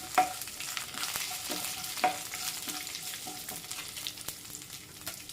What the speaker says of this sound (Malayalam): തേങ്ങാക്കൊത്ത് ഇത് കുറച്ചും കൂടി സമയമെടുക്കും ഒന്ന് റോസ്റ്റായിട്ട് വരാം